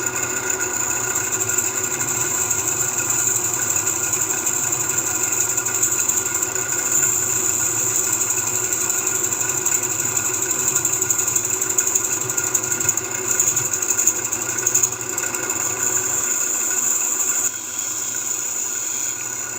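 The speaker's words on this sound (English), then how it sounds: "Now we'll start removing the material from the inside." A wood lathe with a roughing tool cuts the inside of a segmented turned bowl, giving a steady, loud machine whir with a persistent high whine and a rumbling drone that continues throughout, no talking.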